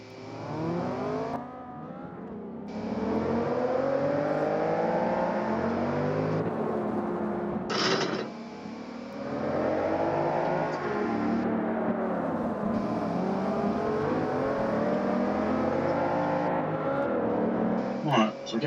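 Race car engines roar steadily in Forza Motorsport 5 while overtaking a Ferrari, the sustained engine drone shifting in pitch with gear changes and rising and falling revs. A voice talks over it throughout.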